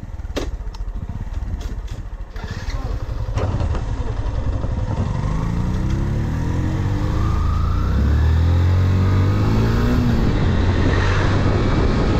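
A Kawasaki Ninja motorcycle rides past and revs, its engine note rising and falling in pitch as it accelerates, loud and close with some wind rumble and no talk.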